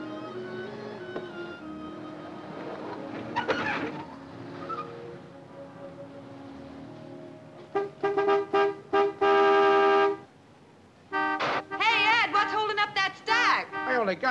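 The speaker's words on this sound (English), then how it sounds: "Some horn-happy creep just pulled in. Let him honk." A car horn honks outside in repeated short blasts and one long sustained toot, loud and near, following a stretch of quieter background noise.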